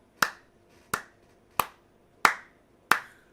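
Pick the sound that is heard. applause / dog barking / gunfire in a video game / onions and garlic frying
applause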